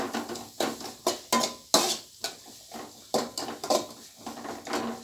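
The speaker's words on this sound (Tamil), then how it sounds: "முதல்ல வெங்காயம் நல்லா வதக்குங்க." Small shallots sautéing in a pan for chicken fry, with a spoon scraping and clanking against the metal in uneven bursts over a soft sizzle, close and without talk.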